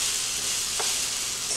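Fried ramen with egg sizzles steadily in a hot pan, a close, continuous hiss of frying with a faint stir midway.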